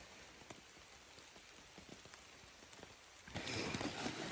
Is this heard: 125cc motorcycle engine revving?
no